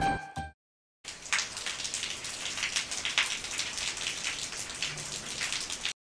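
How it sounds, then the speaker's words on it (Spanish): Rain falls steadily outside on an overcast morning, dense close pattering of drops on surfaces after a brief cut at the start, continuous and even. "Hoy amaneció lloviendo. Ya tendrá como unas 2 horas lloviendo."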